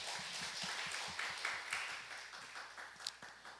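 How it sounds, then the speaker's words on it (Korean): A church congregation claps in welcome during a Sunday worship service, a soft, steady patter of many hands in a hall that carries on for several seconds and slowly thins out. "우리 박수로 환영해 주시기 바랍니다."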